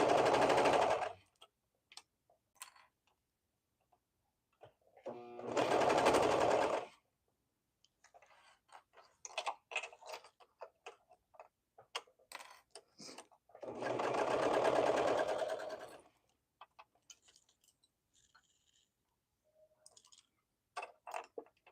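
A sewing machine stitches a Cascade Tee from Pattern Niche in three long bursts of rapid whirring, separated by quieter stretches of clicks, fabric handling and small ticks.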